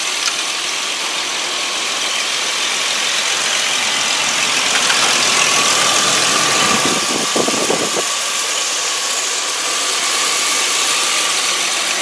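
A 2002 Ford Explorer 4x4 with a 4-liter six-cylinder engine idles steadily up close under an open hood, a continuous mechanical whir with a faint ticking rattle and a brief rougher patch midway.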